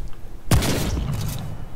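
Gunfire from the video game Remnant: a single sharp, booming shot with a short rumbling tail, heard close and loud in a brief burst.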